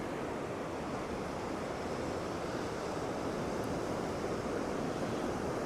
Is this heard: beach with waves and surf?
yes